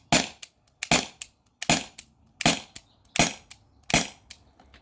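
Six sharp, loud shots from a T4E TR50 marker, fired one at a time at a steady, unhurried pace, each crack standing alone in a quiet room.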